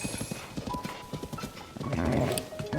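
Horse hooves clip-clop in a steady trotting rhythm in Zelda: Tears of the Kingdom, fairly quiet, then a louder rush of movement near the end, with no talking.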